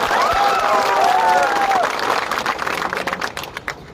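Audience applause at a political rally for Tipra Motha, dense clapping with a few voices and whistles, steady at first then thinning into scattered claps toward the end.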